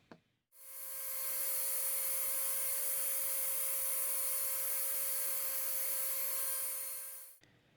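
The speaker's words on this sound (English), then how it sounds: "I will switch over to a 1 mm shank and drill into the stone" A small high-pitched rotary drill with a 1 mm shank bores into stone, whining steadily for about seven seconds, starting and stopping abruptly, close and loud with no talking.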